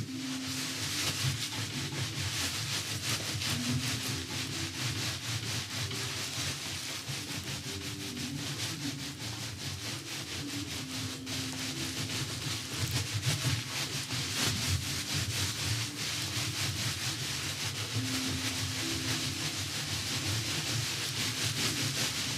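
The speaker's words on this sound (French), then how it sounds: "je vais mélanger toutes les fibres." Wool fibres are rubbed and worked by hand for felting, a steady, close, continuous brushing and rubbing texture that holds for the whole stretch without pause.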